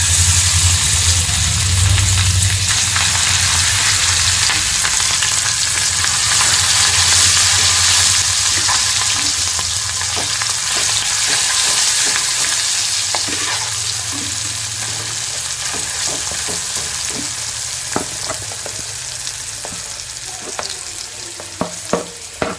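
Loud, steady sizzling of ivy gourd frying in hot oil, with occasional scraping and stirring clicks toward the end; no one speaks.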